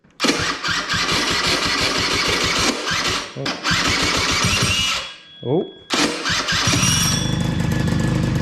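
A 50cc scooter engine sputters and catches, revving buzzily, cuts out briefly, then restarts and settles into a steady idle; a short exclamation is heard.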